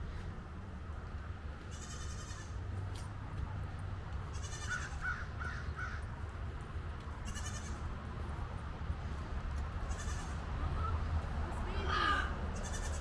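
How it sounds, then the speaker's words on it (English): Billy goats at a roadside citrus attraction bleating several times in short wavering calls, fairly near, over a noisy outdoor background with people talking at times. "Billy goats."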